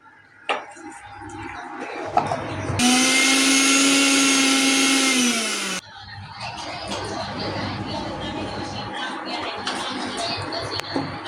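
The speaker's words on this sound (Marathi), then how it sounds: "आपला मिक्सर छोटा होता म्हणून आम्ही दोन्ही वेगवेगळे वाटून घेतले होते" A small mixer grinder whirs loudly for about three seconds, grinding fresh coconut, onion and garlic, then stops abruptly. Softer kitchen clatter and handling noises come before and after.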